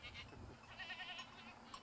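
Goats on a shepherd's mountain pasture at Kızıldağ in Antalya bleat faintly in the distance, several overlapping calls spread across a quiet outdoor scene.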